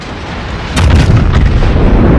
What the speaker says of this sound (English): We're going to take a random pot shot at this DM Donskoy as soon as we're reloaded.